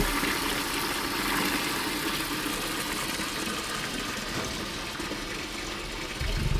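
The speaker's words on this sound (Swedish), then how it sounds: "Och så tömmer vi ut lite vatten." Water rushing out of a drained water pipe during repair work on a supply line, a steady loud broadband gush lasting throughout with no pauses, close by and without voices.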